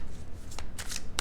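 Tarot cards being shuffled up close, a few quick riffling bursts separated by short quiet gaps.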